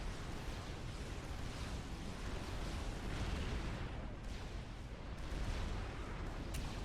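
Many missile launchers fire in the real-time strategy game Forged Alliance Forever, producing a dense, continuous wash of distant booms and bursts that stays fairly quiet and blurs into a steady rumble.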